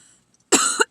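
A single harsh cough bursts out after a moment of near silence, followed by a short second cough, close and loud.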